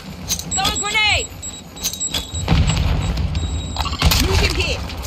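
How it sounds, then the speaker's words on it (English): Grenade blast in Call of Duty: Modern Warfare 2, a low booming burst around the middle of the clip mixed with gunfire and game effects, with voices talking over the action. "Throwing grenade."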